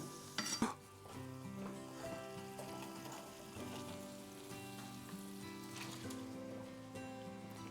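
Ground beef and onion frying in avocado oil in a pan, with a steady close sizzle under clinking and scraping of a utensil stirring against the pan, and a brief louder clatter at the start.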